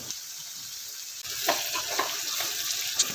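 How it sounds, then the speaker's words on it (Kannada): Onions with turmeric and curry leaves frying in oil, a bright crackling sizzle that grows louder after a brief pause, with a few stirring clinks. "ಎಲ್ಲದನ್ನು ಚೆನ್ನಾಗಿ ಫ್ರೈ ಮಾಡಬೇಕು. ನೀರುಳ್ಳಿ ಟ್ರಾನ್ಸ್ಪರೆಂಟ್ ಆಗಬೇಕು, ಅಲ್ಲಿವರೆಗೆ ಫ್ರೈ ಮಾಡ್ಕೋಬೇಕು."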